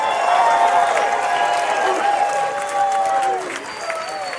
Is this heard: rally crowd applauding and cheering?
yes